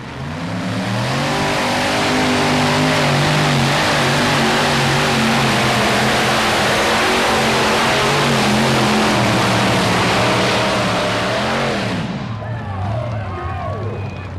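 A pulling tractor nicknamed Desperate Dan, driven through a Rockwell diff, roars on the track at a 1994 tractor pull: a loud sustained engine howl with rising harmonics for about twelve seconds, then cutting back sharply.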